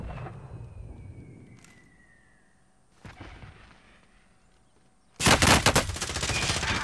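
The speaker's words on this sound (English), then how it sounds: "Are you being shot?" Bursts of gunfire in a Call of Duty Warzone match: a faint shot early, a sharper burst near the middle, then a loud sustained volley of rapid automatic fire close by at the end.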